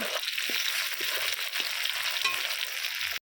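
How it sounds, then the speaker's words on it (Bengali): Chopped tomato sizzles with browned onion in a pan, a steady close hiss of frying with faint stirring taps, no voices. "এর মধ্যে দিয়ে দিচ্ছি কেটে রাখা টমেটো টমেটোটাও পেঁয়াজের সঙ্গে ভালো করে ভেজে নেব"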